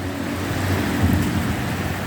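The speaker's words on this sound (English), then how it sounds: "Now it's raining, they're all sitting there," Rain during a Highveld storm pours in a broad, steady wash with a low rumbling undertone, close and continuous for a couple of seconds.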